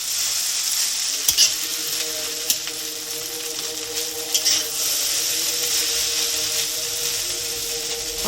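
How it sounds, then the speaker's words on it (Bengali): Fried rice fries over a high flame, a loud steady sizzle with a few sharp clanks and scrapes of stirring, and no talk. "চুলার ফ্লেম সর্বোচ্চ ফ্লেমে নিয়ে এটাকে ভাজবেন"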